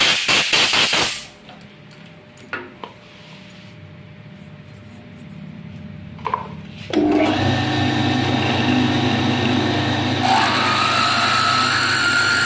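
Compressed air is blown to clean an engine valve part: a short loud blast, then a quiet stretch with faint clicks, followed by a strong, steady close hiss that continues to the end.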